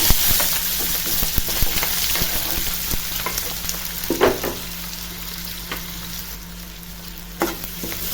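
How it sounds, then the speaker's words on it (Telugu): Onions and green chillies fry in hot oil in a pan, giving a steady crackling sizzle with scattered clicks and scrapes of stirring throughout. "మూడు మిర్చి వేసుకుంటున్నాను కట్ చేసిన ఆనియన్స్ వేసుకున్నాము"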